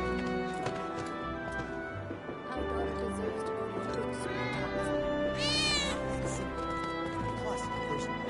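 Cat meowing in Final Fantasy VII Remake, a couple of short mews over busy game music and dialogue.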